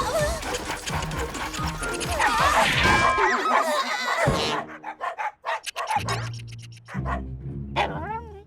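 Cartoon dogs barking in an animated children's show, a burst of repeated yaps and barks mixed with music and sound effects, loud and busy, then scattered sharper barks in the second half.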